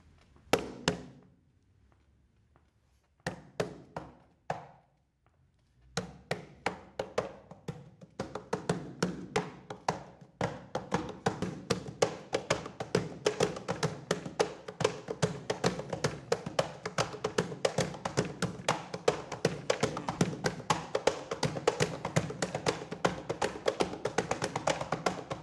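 Improvised drumming made by tapping on chairs, tables and pens, starting with sparse knocks and pauses, then building into a fast continuous clatter of many overlapping taps and thuds in a room.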